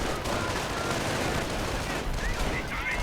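Artillery fire in the World War II strategy game Company of Heroes pounds a bunker position, a dense continuous rumble of blasts and gunfire heard throughout, with faint chirping effects near the end.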